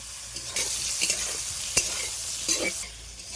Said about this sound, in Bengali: নেড়ে চেড়ে এইভাবে নাড়তে নাড়তে যতক্ষণ না পর্যন্ত একদম হালকা হালকা হয় ঠিক ততক্ষণ ভেজে নেবে